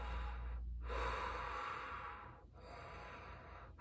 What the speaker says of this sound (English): you get the shitty rip-off Darth Vader breathing